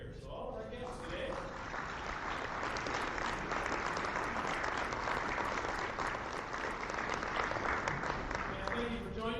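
Sustained applause at a Rotary club meeting as guests are welcomed, a dense roomful of clapping that swells early and holds steady, with faint voices mixed in.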